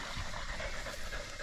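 Hunting dogs panting rapidly after catching a pig in the scrub, a close, steady run of quick breaths with faint whimpering and no talk.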